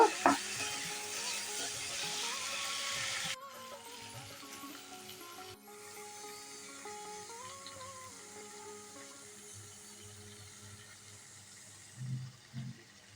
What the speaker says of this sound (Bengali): একটু ভালো করে নাড়িয়ে নেব